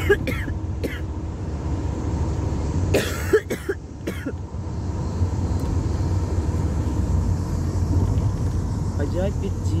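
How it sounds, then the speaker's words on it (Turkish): A person with a sore throat and aching lungs coughs in several harsh, close bursts, mostly early on, over a steady low background rumble. "Boğazım ağrıyor öksürürken."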